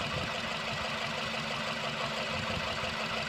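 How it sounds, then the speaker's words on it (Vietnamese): A 2011 Japanese seven-seat car idles with a steady, smooth low hum, close and even throughout with no talk over it. "các bác nghe tiếng máy này. Tiếng máy lổ rất là êm luôn rồi nhé."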